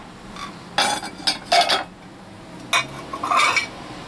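Ceramic plates bought at a discount shop are picked up and set down, producing several sharp clinks and clatters in separate bursts, close and fairly loud, with quiet pauses between them.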